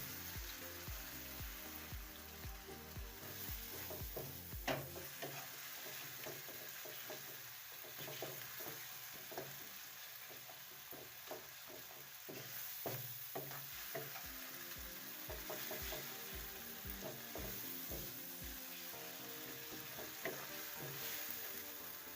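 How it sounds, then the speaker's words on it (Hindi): Frying masala being stirred with red chilli powder, turmeric and coriander powder for chana dal and keema, a soft continuous sizzle broken by repeated spoon scrapes and taps against the pan, near and moderately quiet, no voices. "अब इसको अच्छी तरह से मिक्स कर लेंगे।"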